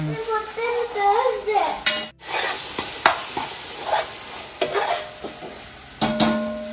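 Ginger garlic paste and tomato fry in a pan, with a steady close sizzle broken by repeated scraping stirs and occasional clinks of a spoon against the pan.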